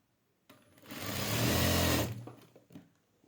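A sewing machine stitches a three-layer gathered sharara. The motor starts abruptly, whirs up into a loud, steady, rising hum, then cuts off, leaving a few small clicks and handling noises. Nobody speaks.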